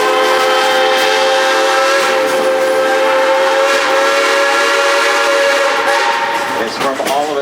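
The Silver Dollar City railroad in Branson, Missouri, sounds a train whistle in one loud, sustained, close blast that holds steady for several seconds and wavers slightly as it ends.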